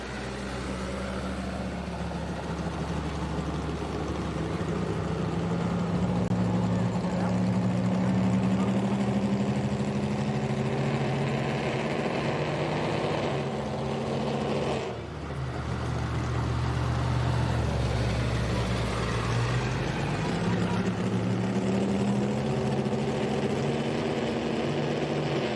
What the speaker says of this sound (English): the way the exhaust is made, they're zoomies, they're individual pipes